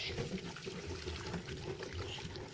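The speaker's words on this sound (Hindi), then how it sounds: "बाल्टी में मैंने पानी ले ली है और उसमें गोभी को डाल दी हूँ मैं।" A head of cauliflower being washed in a bucket of water, giving soft continuous sloshing and splashing, fairly quiet and close, with a faint steady background hum.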